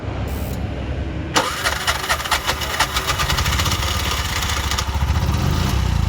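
A Bajaj BS6 auto-rickshaw with starting trouble is cranked, catches sharply, and settles into a loud, puttering idle with a slightly uneven beat, close by.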